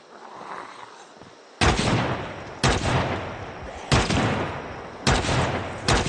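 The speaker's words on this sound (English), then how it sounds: "I am going to shoot these guys." Project Zomboid video game gunshots: four loud, sharp shots spaced about a second apart, each followed by a lingering booming decay, with no speech.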